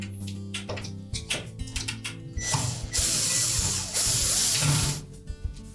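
A screw is ratcheted in to fasten the capacitor bracket on a Whirlpool washer motor, giving close, loud bursts of rapid clicking with brief pauses between strokes.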